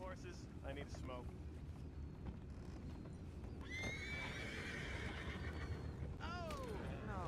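Horses in Red Dead Redemption 2 whinny with rising, wavering cries over steady clip-clop of hooves and a rushing wind-like bed, fairly close, with brief game voices nearby.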